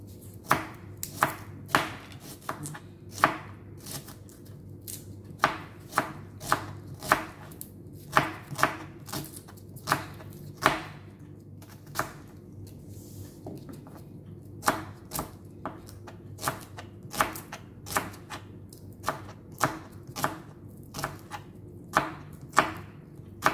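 Onion being chopped with a knife on a board, a steady run of sharp, close taps in uneven bursts with short pauses, no talking over it.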